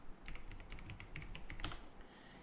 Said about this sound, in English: I'm just typing over here called buy a product